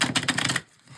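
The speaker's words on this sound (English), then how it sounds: "I'm going to give it one more shuffle." Druidic Tarot cards get a quick shuffle, a rapid riffle of several crisp papery flicks packed into half a second, close and fairly soft, then stopping into quiet.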